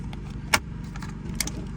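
A wiper switch connector on a GMC Sierra snaps into place with a single sharp, brief click close by, followed by a fainter second click, set against a low steady hum.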